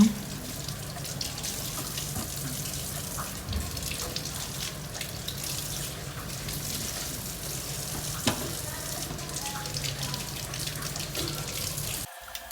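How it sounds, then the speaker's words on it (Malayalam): Fruit is washed under a running kitchen tap, with water rushing steadily into the sink for the whole stretch. Faint handling clatter sits underneath the flow. "അങ്ങനെ പിന്നെ ഞാൻ ആ ഫ്രൂട്ട്സും കാര്യങ്ങളെല്ലാം കഴുകി കൊടുക്കുകയാണ്."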